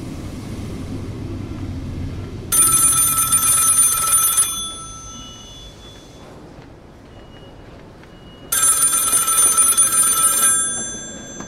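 A telephone bell rings loudly in two separate bursts of about two seconds each, with quiet room tone between. It is one of a row of several phones.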